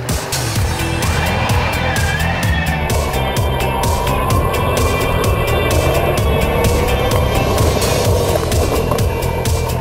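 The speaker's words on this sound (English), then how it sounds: "now I'm swerving the motorbike" A motorcycle engine runs steadily with gear changes and shifting revs during emergency stop and swerving practice, under a constant rush of wind.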